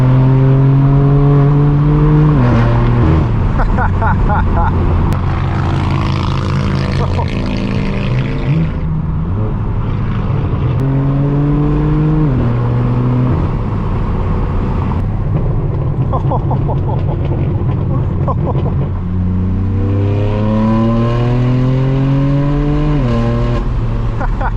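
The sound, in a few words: straight-piped BMW M4 F82 driving on the road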